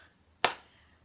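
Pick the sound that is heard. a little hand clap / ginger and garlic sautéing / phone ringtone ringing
a little hand clap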